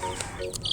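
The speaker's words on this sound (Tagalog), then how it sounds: "Black Australorp to. Tsaka merong 2 pirasong ano to, native chicken." Week-old Black Australorp and native chicks make a brief run of high, thin cheeping calls, close by and moderately loud, with no talking.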